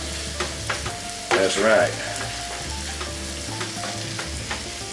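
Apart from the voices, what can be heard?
meat and onions frying for jambalaya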